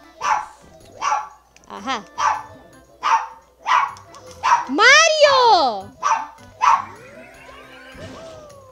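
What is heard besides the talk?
the speaker's pet dog barking in the room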